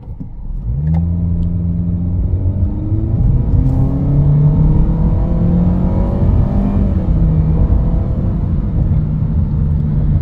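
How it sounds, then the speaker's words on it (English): A 2021 Honda HR-V Sport AWD engine accelerating, heard loud from inside the poorly insulated cabin, with a steady rising drone climbing through several shifts over about ten seconds. "It's loud and the engine's loud, and the insulation in the car isn't that good."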